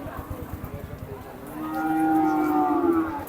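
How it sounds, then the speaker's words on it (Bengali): Cattle at a busy livestock market in Badarganj, Bangladesh; one animal lets out a long, loud, drawn-out moo in the second half, after a stretch of rhythmic market noise. "অনেক গরু আছে মাশাআল্লাহ"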